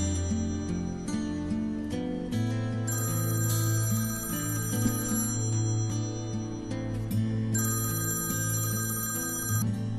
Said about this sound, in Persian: زنگ موبایلت هست.